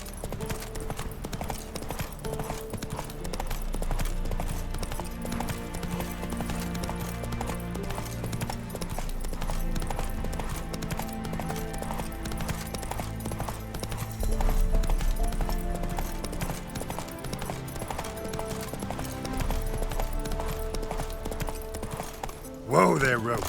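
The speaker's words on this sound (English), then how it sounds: "Whoa there, Roach" Steady horse hoof clip-clop from The Witcher 3 video game, a rhythmic trot running throughout beneath music and game ambience, with a brief louder burst near the end.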